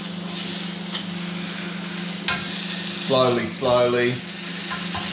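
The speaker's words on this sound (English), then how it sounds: "this is marinated meat, I'm going to turn it a bit more so I don't burn any of the marinade" Marinated meat sizzles in a hot pan and is turned, a steady close frying hiss with a low hum and a few scrapes, while someone speaks briefly partway through.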